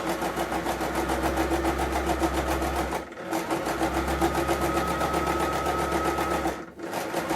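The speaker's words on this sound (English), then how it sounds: "I'm just going to get my sewing machine, and I'm going to close that first by the side 1 inch." A sewing machine stitching a blouse's cold shoulder sleeve runs fast and steady in two long bursts with a brief pause between, its rapid mechanical stitching close and loud.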